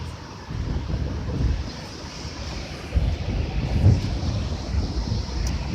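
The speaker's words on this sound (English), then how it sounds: "These waves are big." Big ocean waves surge and wash in a continuous rumbling roar with wind buffeting the microphone. Swells rise near 1.5, 3 and 4 seconds.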